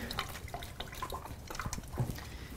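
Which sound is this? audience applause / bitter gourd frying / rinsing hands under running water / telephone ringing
rinsing hands under running water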